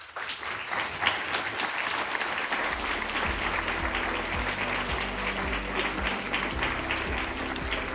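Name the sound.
graduating class and audience applause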